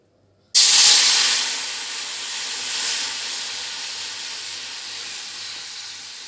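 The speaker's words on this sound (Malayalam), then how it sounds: "ഇത് 2 കഷ്ണം ശർക്കര ഉരുക്കിയതാണ്. അത് അതിലേക്ക് ഒഴിച്ചു കൊടുക്കാം." Melted jaggery poured into a hot wok for black sesame candy balls, giving a sudden loud sizzling hiss that starts abruptly and then slowly fades into a steady bubbling hiss.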